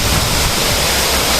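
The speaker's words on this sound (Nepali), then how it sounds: "यस्तो छ हाम्रो बुदर झरना, डोटी जिल्लाको। एकदम खतरनाक पानी आइरहेछ" Budar waterfall in Doti district, Nepal, pours with heavy, forceful water, a loud close continuous roar filling the short moment without pause.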